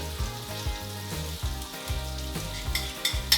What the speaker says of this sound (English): So a little bit of butter and get those mushrooms in.